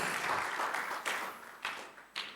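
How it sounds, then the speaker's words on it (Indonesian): Applause from a church congregation at an Indonesian Sunday service, a steady wash of clapping that swells in a few bursts and then fades. "Mari kembali berikan tepuk tangan."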